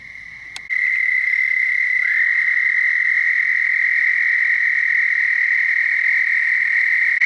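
A loud, continuous high trill of toads calling nearby in spring in Georgia, an unbroken ringing chorus that holds steady throughout.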